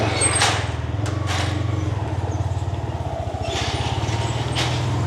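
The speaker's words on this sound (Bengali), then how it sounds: "বাইক দিয়ে প্রথম বাস স্টেশন যাত্রা শুরু হচ্ছে।" A motorbike idles and pulls away at the start of a ride toward a bus stand in Bangladesh, its engine putting out a steady close low throb with a few brief clattering bursts over it.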